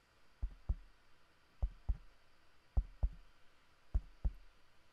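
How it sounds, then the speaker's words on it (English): A heartbeat sound effect for a reading of Poe's The Tell-Tale Heart: four muffled, low double thumps in a steady, slow rhythm, with no voice over them. "the heart beat"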